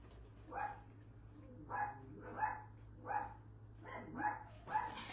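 Dogs barking in the background indoors, a series of about seven evenly spaced single barks roughly every half second to second, moderately distant and alone over a faint steady hum.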